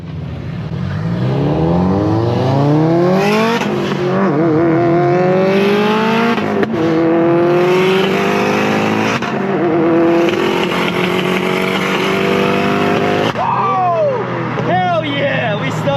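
A loud turbocharged Subaru engine winds up hard through several gears in a street race, rising repeatedly with shifts in between, close and dominant with voices mixed in.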